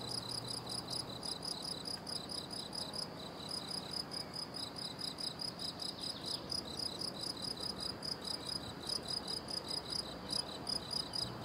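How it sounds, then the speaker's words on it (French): Cicadas shrill steadily and close by in a rapid pulsing chorus that never lets up, with no voices over it. "Le cri des cigales rille la roche."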